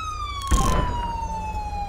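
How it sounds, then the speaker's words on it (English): Police car siren in the video game GTA V with the LSPDFR mod, a steady wailing tone sliding slowly downward as it winds down, loud and close, with a brief burst of engine or impact noise partway through. "Let me get my siren shut off."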